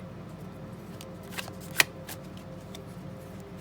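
A deck of tarot cards is shuffled by hand close up: soft, quiet riffling with one sharp snap of cards midway, and no talking.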